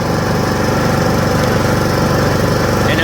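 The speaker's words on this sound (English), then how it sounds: "I'm just going for a ride on the tractor" A riding lawn mower tractor engine runs steadily and loud up close, a continuous throbbing drone with no break and no voices over it.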